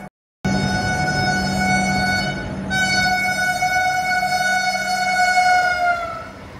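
A Puri–Rourkela Vande Bharat express passes a station with its horn sounding one long, loud, sustained blast. The pitch drops partway through as the train goes by, and a low rumble from the train runs underneath.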